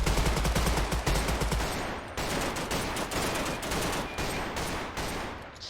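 A squad opens up with gunfire in the military strategy shooter Total Conflict: dense, loud volleys of rapid shots pound on without letup, with a deep boom near the start and no talking.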